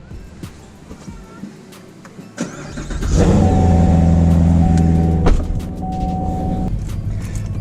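A 2019 Corvette engine starts and revs up loudly, then settles into a strong steady rumble close by.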